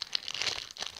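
A half-transparent plastic packet from a toy unboxing crinkles and crackles as it is handled and pulled open, close to the microphone in a brief burst of rustling.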